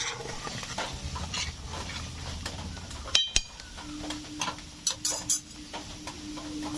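Pumpkin frying with turmeric and salt in a pan, soft sizzling under a spoon's scraping strokes and several sharp clinks against the metal, with a brief silent break partway through.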